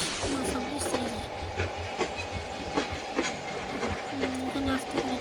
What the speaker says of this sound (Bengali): পাশ থেকে ট্রেন যাচ্ছে